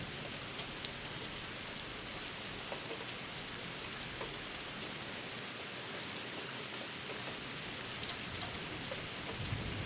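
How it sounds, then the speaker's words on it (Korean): Steady rain falls outdoors as a dense, even hiss with scattered louder drops, continuous and moderately quiet throughout, with no voices. "아, 비가 오네."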